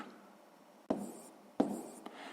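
Pen or pencil writing numbers by hand on paper during a sixth-grade maths exercise, with soft scratchy strokes broken by two sharper taps, close and quiet, no talking.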